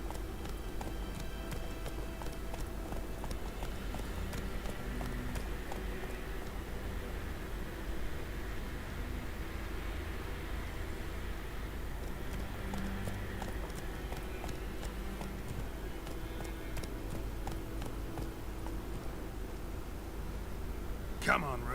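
Roach, a horse in The Witcher 3, gallops in a steady rhythmic clip-clop of hooves that runs continuously and fairly quietly over a constant background hiss.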